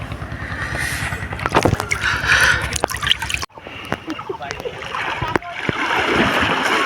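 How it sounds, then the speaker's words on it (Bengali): A boat moves through river water with repeated splashing and sloshing close by, while people talk over it throughout. "দেখো নৌকা যাচ্ছে।"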